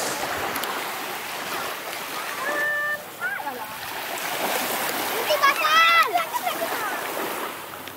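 Beach ambience at Pantai Kijing in Mempawa, with steady broadband surf and water wash throughout, a few brief splashes, and voices chattering faintly in the background.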